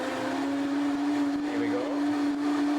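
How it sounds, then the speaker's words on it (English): A Vitamix blender whirs steadily at high speed, blending soup made with beer, a loud, even motor drone with a slight pitch wobble throughout. "I love this little Vitamix here to make those instant soup"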